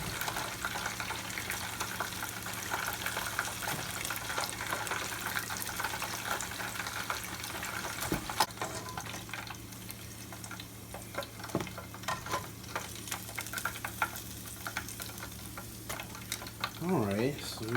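Korean-style chicken wings fry in hot grease with a steady, soft sizzling hiss, marked by scattered pops and light clinks, close by and without any voices.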